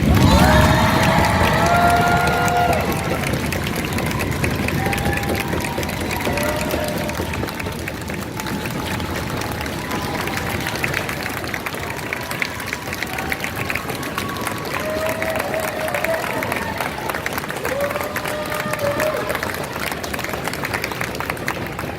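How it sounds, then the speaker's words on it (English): Crowd applause and cheering at an outdoor parade ceremony with a band, a dense steady wash of clapping and shouts lasting throughout, with scattered whistles and raised voices over it. "Let's give them another round of applause."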